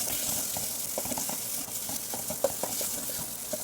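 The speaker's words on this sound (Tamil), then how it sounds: "வெங்காயம் தக்காளி நல்லா வதங்கட்டும்" Onions and tomatoes with turmeric sauté in oil, giving a steady, close sizzle with light stirring clicks scattered through and nobody talking.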